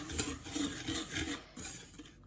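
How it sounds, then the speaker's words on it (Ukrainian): Sugar, starch and flour being mixed in a bowl for Napoleon cake cream, heard as close, rhythmic scraping and clinking of a utensil against the bowl with brief pauses. "крохмаль, борошно, перемішуємо"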